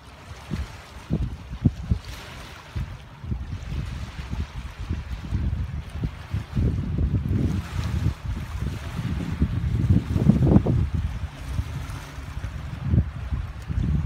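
A small boat cruises down a river beneath rocky banks, with low rumbling motor and water wash, choppy splashing and wind buffeting close by, growing louder toward the middle and staying steady throughout.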